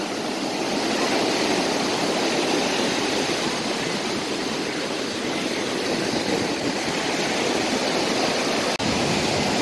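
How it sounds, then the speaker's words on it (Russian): Continuous roar of surf, a dense wash of breaking waves, loud and unbroken throughout. "Поэтому будьте осторожны, конечно же, при таких волнах."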